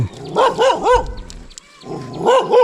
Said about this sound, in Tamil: நாய் வருது